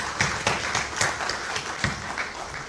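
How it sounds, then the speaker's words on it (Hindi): Audience applause at a mushaira poetry gathering in Lucknow, a steady wash of many hands clapping from a large crowd, moderately loud and continuous with some sharper individual claps standing out. "एक बार थोड़ा जोरदार तालियां हमारे सभी शोरा के लिए"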